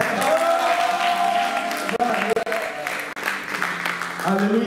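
A church congregation applauding and cheering in praise, a dense continuous wash of clapping and voices filling the room, with singing or shouted voices mixed through it.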